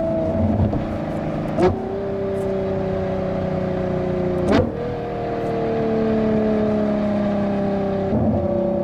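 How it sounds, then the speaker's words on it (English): A Novitec-tuned Ferrari Purosangue V12 holds a steady engine drone, broken by three sharp downshift blips about three seconds apart, each a brief rising bark before the tone settles again. "I think that's the most beautiful downshift in any car in the world"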